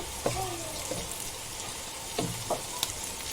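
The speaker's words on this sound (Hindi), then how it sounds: "देखो अच्छे से भूनेंगे इसको, अच्छे से भूनने से टेस्ट भी अच्छा आता है।" Mutton keema browning on a tawa gives a constant close sizzle, with a few scraping stirs of the spatula against the hot surface spaced unevenly, no talking.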